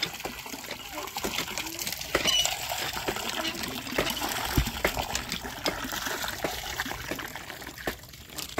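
Water poured and splashing while someone bathes at home, an uneven wet trickling and gushing that runs through the whole stretch at moderate level, with faint background voices.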